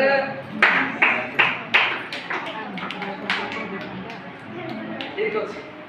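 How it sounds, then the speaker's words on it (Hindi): A multigrade class of children claps on request, giving a short series of loud rhythmic claps in a classroom, mixed with voices speaking. "पंचम नंबर पे ताली दी दियो जोरदार"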